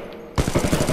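Automatic gunfire in Titanfall 2, a loud rapid burst of about a dozen evenly spaced shots that cuts in abruptly after a quiet moment and keeps going to the end.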